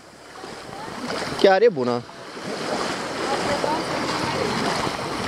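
Sea waves wash steadily at the beach in Eforie Nord, a broad continuous surf rush with a short burst of speech from a nearby person partway through.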